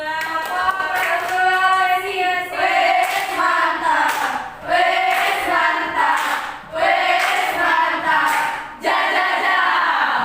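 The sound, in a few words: classroom applause for group 2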